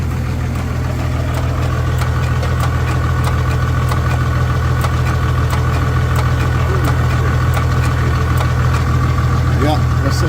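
An old Dodge W300 truck engine that sat for years and was thought to be seized is cranked over, making a loud, continuous low mechanical churning with a steady pulsing rhythm.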